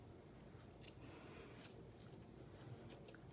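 Scissors trimming ribbon for a small candy-cane treat bow at a craft table, a few faint, quick, crisp snips spaced apart against quiet room tone, with no talking.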